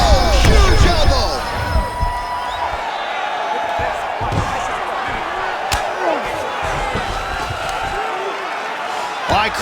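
A UFC 5 video game arena crowd roars and cheers loudly through a fight, with sharp impact thuds and a commentator's voice over the noise.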